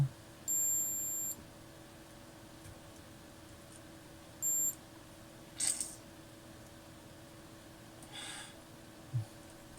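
Electrical continuity tester beeping when current passes through a circuit being checked: two short steady electronic beeps, each about a second or less, in an otherwise quiet room with a couple of faint clicks.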